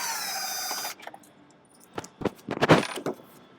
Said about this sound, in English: Remove these two screws.